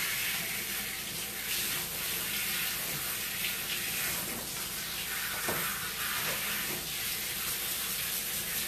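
Running water pours steadily as a dog is rinsed after creative paint grooming, a constant close splashing hiss with no break.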